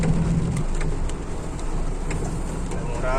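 Rain falls at a site with an excavator and trucks, a dense steady hiss with low rumble beneath and a faint squeal near the end.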